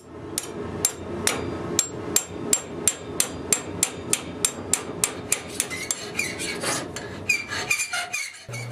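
Hammer blows strike a slotting chisel to shear out the metal between punched holes at the forge, a steady series of about twenty sharp, ringing metallic hits at an even rhythm, close and loud.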